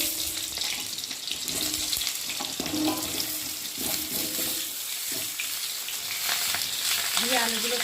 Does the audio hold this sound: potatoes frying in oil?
yes